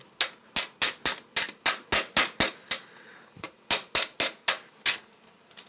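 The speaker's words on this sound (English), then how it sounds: "This one you might have to hammer in too." A rapid series of sharp hammer blows driving a part into an Arrma Outcast 8S RC car, about a dozen strikes in two bursts with a short pause between, loud and close with metallic ringing.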